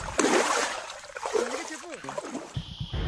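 Cold stream water splashes and sloshes as someone wades through it on foot, with close irregular splatters and trickles under nearby talking.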